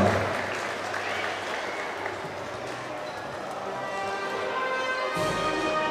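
A crowd at an outdoor basketball awards ceremony in Santa María Tlahuitoltepec, Oaxaca, applauds, a steady, fairly faint spread of clapping heard from a distance that runs evenly throughout, with a little background chatter.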